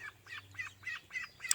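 Rouen and Blue Swedish ducks quack in a run of five evenly spaced, nasal calls close by, each one short and loud over a low steady background hum.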